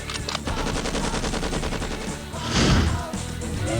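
Rapid machine gun fire from a video game quiz show rattles in a loud, continuous stream of tightly spaced bursts, swelling into a heavier crashing blast midway before the steady rattle resumes.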